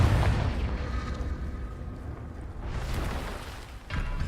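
A Confringo blasting spell explodes in Hogwarts Legacy, a deep rumbling boom that rolls on for seconds, followed by a second burst of blast noise near the end.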